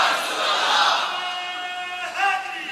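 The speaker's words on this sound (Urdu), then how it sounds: "آج تو دن ہے نا نعرے لگانے کا" A crowd at a religious gathering marking the Battle of Badr raises loud slogans together, a sustained roaring swell of many voices that fades slightly and then surges again near the end.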